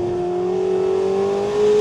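McLaren 750S supercar engine running steadily while driving, a loud sustained hum with a clear tonal drone that swells slightly near the end, heard close and alone without talk.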